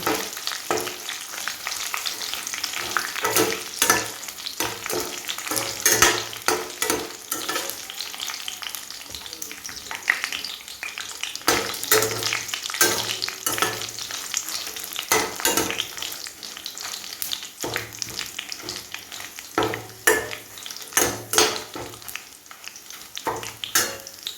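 Chicken frying in oil in a pan gives a sustained crackling sizzle, close and fairly loud, broken by repeated scraping and stirring strokes at an uneven rhythm throughout.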